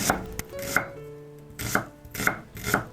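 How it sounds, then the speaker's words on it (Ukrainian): Red and white onion is chopped with a knife on a board: about five crisp, separate chops in an uneven rhythm, close and clear, with quiet gaps between. "Задля поєднання смаку нарізаємо червону та білу рібчасту цибулю."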